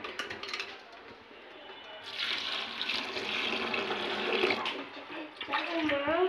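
Chalta, elephant apple fruit, washed in water: tap water runs and splashes steadily into a vessel while people talk nearby.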